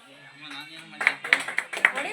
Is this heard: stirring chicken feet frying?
no